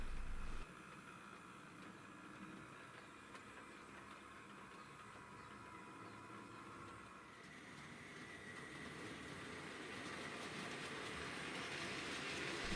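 A Bachmann Class 08 model diesel shunter works carriage sidings on a model railway layout, producing a faint, steady mechanical whirr with light track noise that slowly grows louder as it runs.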